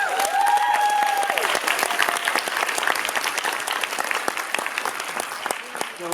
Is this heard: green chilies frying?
no